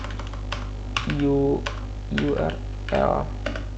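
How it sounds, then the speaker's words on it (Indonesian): Someone types a WPScan command on a computer keyboard while a voice talks over it; the keys give a steady run of light clicks in irregular bursts. "langkah selanjutnya kita ketik WP Scan"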